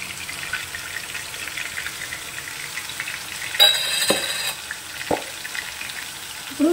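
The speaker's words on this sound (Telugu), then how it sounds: "ఇప్పుడు వెంటనే ఈ ఉల్లిపాయలు కూడా వేసేసుకోండి." Sliced onions go into hot oil in a pan with brinjal, bringing a steady soft sizzle and a sudden brighter crackling burst as they hit the oil, followed by a few stirring clinks.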